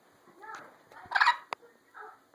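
A turkey gobbles in a series of close, rattling calls that swell to a loud burst midway, followed by a short sharp sound and a softer final gobble.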